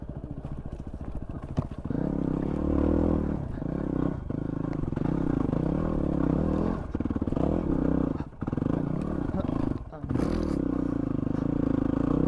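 A Yamaha WR250R motorcycle engine revs hard near 10,000 RPM in second gear while it lifts into a wheelie, a loud, sustained buzzing roar close to the rider with brief dips, and a voice under it.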